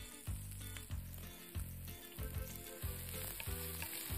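Onion frying in a pan for liver and onions, a steady sizzle with periodic low knocks and stirring scrapes of the spatula against the pan.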